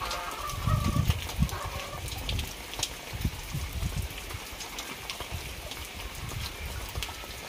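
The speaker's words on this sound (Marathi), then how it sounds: "पाऊस पण थांबत नाही," Steady rain falls over flooded rice paddy fields in the Konkan during transplanting season, a continuous hiss with a few nearby splashes and occasional sharper drops.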